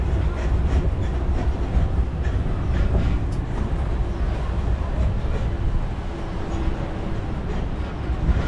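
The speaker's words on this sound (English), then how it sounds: "Please remain seated as the tram comes to a full and complete stop." A Disneyland parking tram rolls along with a steady, loud rumble and rattle of wheels and cars as it slows toward a stop, the sound holding fairly constant throughout.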